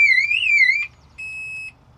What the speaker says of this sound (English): Our first job was to set the alarm off.